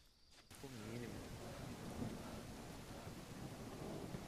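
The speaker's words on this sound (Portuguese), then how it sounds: "Tá chovendo hard, mano." Heavy rain pours steadily in the survival video game No One Survived, with thunder rumbling in, loud and continuous after a brief quieter opening.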